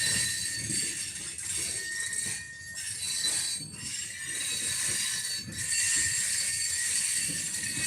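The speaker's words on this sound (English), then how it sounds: "Train going by." A train rolling past a park, with low rumbling wheels, metallic clinks and faint squeal at moderate distance, steady throughout and with no talk.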